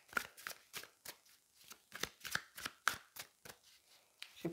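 Tarot cards are drawn and handled in a quiet room: a dozen or so soft, crisp flicks and slides come in an uneven rhythm, close and fairly faint, with no talking.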